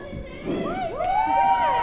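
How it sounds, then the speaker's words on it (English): A stage performance crowd murmurs loudly, a swell of overlapping voices with rising and falling shouts and calls that builds toward the end. "The crowd murmured loudly and wondering what he was going to present."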